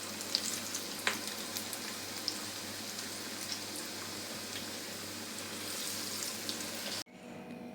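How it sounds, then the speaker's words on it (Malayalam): Onion pakoda deep-frying in hot oil, a steady dense crackling sizzle close by that runs without a break for about seven seconds, then cuts off abruptly. "ഇനി ഇതുപോലെ നമുക്ക് ബാക്കിയെല്ലാം വറുത്ത് കോരാം"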